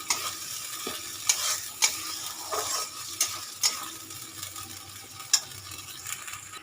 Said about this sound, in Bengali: দিয়ে এটা দিয়ে খুব ভালো করে এখন মশলাটা আমি কষাবো